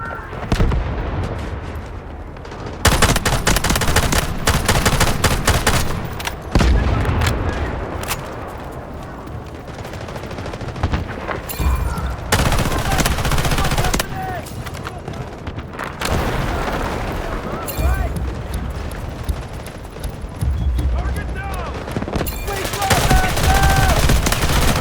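SG552 assault rifle firing in the Delta Force video game, loud sustained automatic bursts with booming explosions and battle noise throughout, with brief announcer-style voice lines in the mix.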